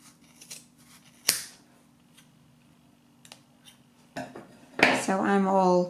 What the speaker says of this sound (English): we're going to start cutting the other side in the exact same way.